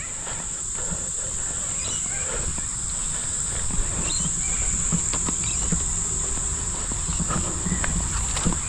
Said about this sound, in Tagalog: puro huni ng ibon sa mga kuliglig yung maririnig mo kapag dito ka naglalakad ng mga ganitong oras